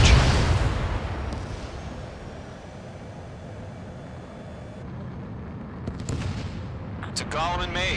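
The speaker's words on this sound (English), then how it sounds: "Mage 2, missile launch." A missile launches in the Ace Combat 7 air-combat game, a loud roaring whoosh at the start that fades into sustained jet rumble, followed by a few sharp bursts and radio-style chatter near the end.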